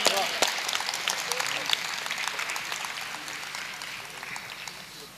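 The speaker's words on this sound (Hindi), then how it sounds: "जोरदार तालियां होनी चाहिए।" Listeners applaud after a Hindi poetry recital, strong clapping starting with a few sharp claps and then fading gradually over several seconds.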